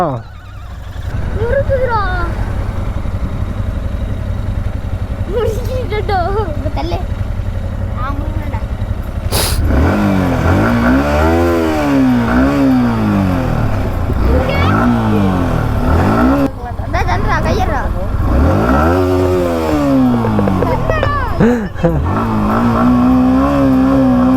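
A motorcycle fitted with a double silencer revs hard nearby, its engine note rising and falling in repeated loud sweeps under people talking.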